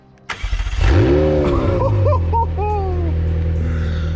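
A McLaren 720S Spyder engine cranks with a quick burst of starter pulses, then catches and flares into a loud rev before settling to a steady, rumbling idle.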